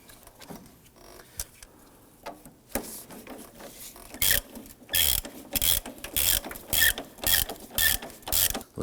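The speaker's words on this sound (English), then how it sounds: "Let's go ahead and install the nut." A ratchet tightens a nut on the transmission mount of a 2008-2011 Ford Focus, starting with quiet fumbling and light clicks, then a close, loud run of rhythmic ratcheting strokes, each a short burst of rapid clicking, repeating about every half second.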